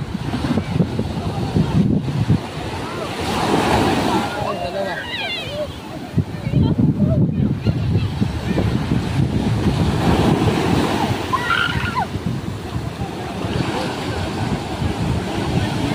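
Sea waves wash and slap steadily around a small fishing boat loaded with anchovy catch, a constant broad roar mixed with wind buffeting the microphone and intermittent voices speaking over it.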